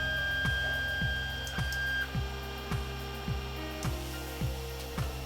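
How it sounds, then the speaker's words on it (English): An Ender 3 3D printer lowers its nozzle toward the bed, making a steady stepper-motor whine with a regular series of soft clicking ticks about twice a second, fairly quiet and close. "So let's wait for the nozzle to come down."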